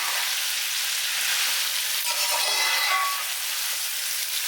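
Chicken fry pieces for biryani being stirred in a hot pan, a steady close sizzle with soft scraping of the spoon as the pieces are mixed, continuous and fairly loud with no talking.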